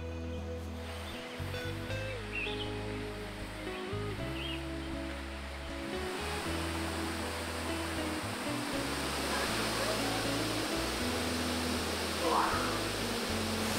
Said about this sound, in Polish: Idziemy tam, już słychać wody szum.